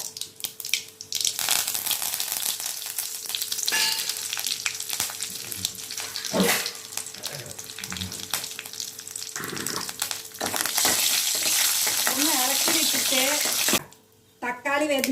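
Curry leaves and a dried red chili, broken in two, sizzling in hot oil in a home kitchen, loud continuous crackling with bursts of spattering and stirring, later joined by pouring water.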